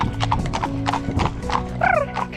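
Horses walk on an endurance ride, hooves clip-clopping in a close, irregular rhythm, with a brief whinny near the end.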